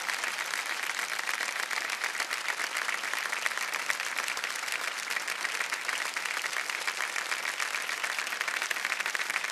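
Sustained studio audience applause on the Kaun Banega Crorepati 13 quiz show set, a dense, steady wash of many hands clapping at moderate level throughout, with no voices over it.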